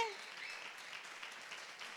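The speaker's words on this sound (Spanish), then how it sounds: "Un aplauso increíble." A theater audience at the final of a science monologue contest claps in a soft, distant, even patter that continues quietly throughout.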